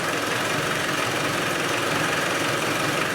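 A Spanish 110 engine running with its valve covers off, a loud, steady close-up mechanical clatter and rumble with a faint knocking texture, no voices over it.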